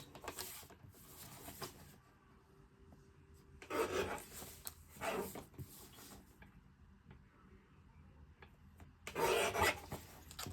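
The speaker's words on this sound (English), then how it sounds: "I'm gonna grab my trimmer and I'm gonna trim this down to 6-piece" A paper trimmer slicing 6x6 patterned paper for a junk journal, heard as several short close raspy scraping strokes separated by quieter pauses, with no talking.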